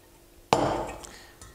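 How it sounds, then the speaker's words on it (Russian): Boiled pearl barley tipped into a metal colander in a kitchen, one sharp clattering impact followed by a short wet rush of draining water that fades, with a faint knock after. "Сейчас нужно слить эту воду и откинуть перловку на дуршлаг."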